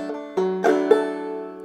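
A clawhammer banjo plays a short phrase of Logan County Blues on its low strings, a few plucked and strummed notes ringing close and clear with no talking.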